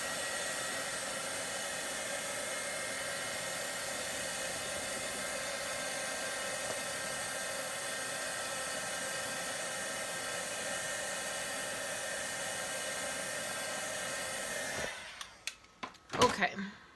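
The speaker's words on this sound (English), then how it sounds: "Let me grab my heat tool." Handheld craft heat tool blows hot air to set ink on a greeting card, a steady close whooshing hiss lasting several seconds that ends with a few clicks and handling knocks.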